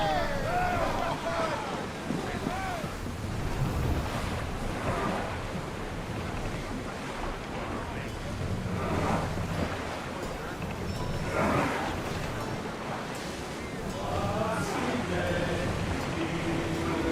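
A ship sails through open ocean waves in Assassin's Creed Odyssey, with a constant rush of water and wind around the hull, loud and continuous under scattered crew voices.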